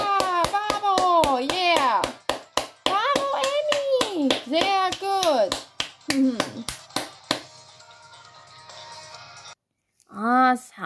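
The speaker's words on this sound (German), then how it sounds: "einfach Applaus für Team Amy" A steady run of sharp hand claps sounds close, roughly a dozen per few seconds, while a voice talks and cheers over them. The clapping thins out toward the end.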